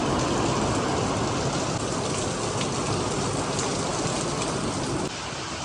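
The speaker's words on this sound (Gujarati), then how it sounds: "જો વરસાદ જો" Heavy rain pours down in a dense, loud, continuous roar of drops hitting surfaces close by, unbroken for several seconds before easing slightly at the very end, with no voices.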